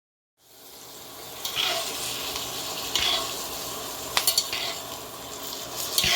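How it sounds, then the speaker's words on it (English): Mushrooms sizzling in a frying pan with thyme while being basted, a steady close fry punctuated by spoon scrapes and clinks against the pan. "I'm gonna baste these mushrooms and they are gonna be so delicious"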